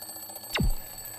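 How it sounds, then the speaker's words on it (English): A ringing alarm clock sweeps past in a Doppler effect demonstration, its pitch sliding sharply downward as it passes, a loud single swoosh lasting under a second. "Listen to the sound as the alarm clock moves towards you."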